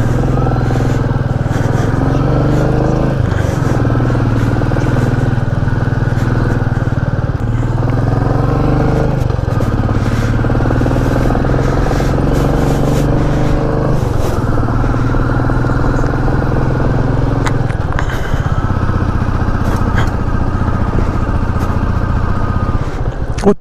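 A motorcycle rides a narrow mountain road between Shimla and Kufri, its engine humming loud and steady close by for the whole stretch, with small shifts in revs and light clatter.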